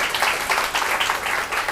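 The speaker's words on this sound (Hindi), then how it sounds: "एक बार जोरदार तालियां किरण दीदी" Audience at a coaching seminar bursts into steady, dense clapping that holds evenly throughout, many hands at moderate distance filling the room.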